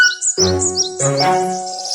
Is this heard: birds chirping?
yes